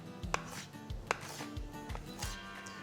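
A knife chops fresh dill coarsely on a cutting board, about eight sharp separate strikes at an uneven pace, close and clear with no talk.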